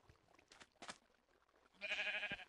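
A Minecraft sheep gives a single short bleat near the end, preceded by a few faint clicks and taps, all quiet and close.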